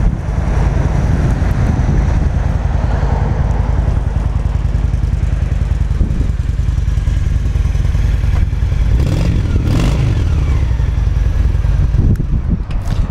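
A used Honda Shadow VT750 motorcycle runs steadily throughout, a continuous low engine rumble mixed with wind buffeting on the microphone and some clatter, loud and close with no talking.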